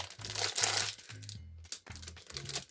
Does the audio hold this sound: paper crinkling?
yes